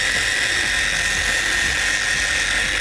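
Wax Attack car polishing machine running steadily at low speed on a car bonnet, a continuous whirring drone with a bright high hiss, close and alone without talk.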